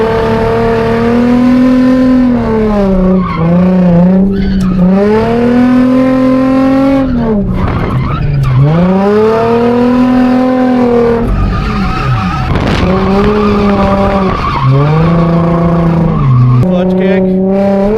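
A Nissan Z drifts at a practice session after a clutch kick, its loud engine revving up and down in sweeping waves while tires squeal continuously close by.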